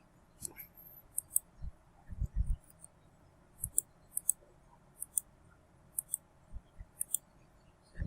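A computer mouse clicks quietly and irregularly, with sharp, isolated clicks scattered across several seconds in a quiet room.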